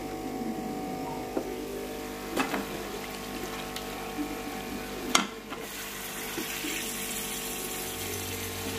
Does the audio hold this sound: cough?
no